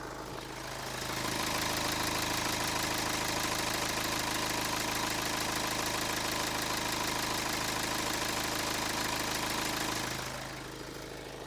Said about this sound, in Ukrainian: Також дам послухати вам мотор. Мотор працює дійсно без лишніх звуків.